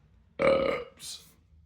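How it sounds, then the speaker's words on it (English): A loud, close burp from someone drinking an imported 8% double IPA, one long rumbling belch followed by a softer trailing exhale. "Excuse my burp."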